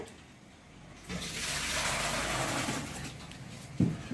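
Well water pours steadily into a kitchen vessel for a few seconds, a broad rushing splash, ending with a brief clunk.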